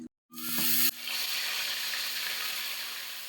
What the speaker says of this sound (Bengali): গোটা মশলাগুলোকে বাটা হয়ে গেছে, এবার গরম তেলে দিয়ে দেবো।